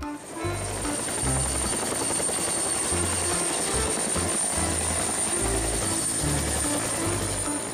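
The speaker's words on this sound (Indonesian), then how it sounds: "Helikopter." A helicopter flies close by with a steady, loud rotor thump and a continuous high engine whine running under it the whole time.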